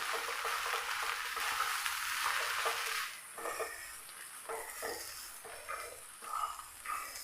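Egg and bitter gourd stir-fry over a high flame in a pan: a loud steady frying hiss for a few seconds, then quieter sizzling with repeated close scraping stirs.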